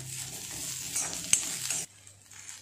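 Coconut and onion roasting in a pan, a soft sizzle under light stirring scrapes that stops abruptly partway through, fairly quiet with no voices.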